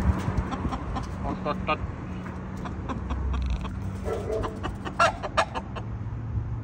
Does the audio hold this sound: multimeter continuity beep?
no